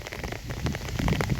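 Rain falling outdoors in a rural setting, a close, fairly loud wash of drops spattering on surfaces that thickens slightly toward the end, with no voices.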